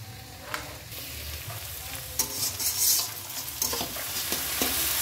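Onions, bay leaf and spices fry in mustard oil in a kadai, a continuous close sizzle broken by several sharp stirring scrapes and clanks of a spatula against the pan.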